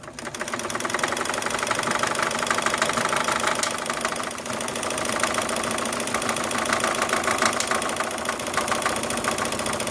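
A Necchi or Elna sewing machine with a monograph embroidery device sews a satin stitch, giving a steady, fast mechanical whirring and rattling that runs continuously with no talk.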